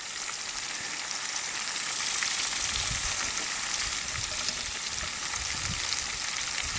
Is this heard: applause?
no